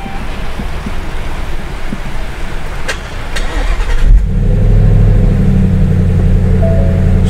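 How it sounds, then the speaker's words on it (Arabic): A 2017 Ford Mustang with a standard manual gearbox starts up loud and close, the engine catching with a surge and then settling into a steady, deep idle rumble. "شغل لكم السيارة الحين"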